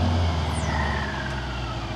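A Mercedes S500 V222 engine revving with its exhaust flaps closed gives a steady, muffled roar that holds fairly loud and even for a couple of seconds, with no voices.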